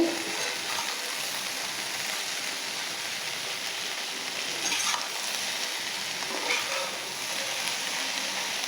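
Okra seasoned with salt and turmeric fries in a pan, throwing off a loud, unbroken hiss of sizzling oil close by that holds steady from start to finish.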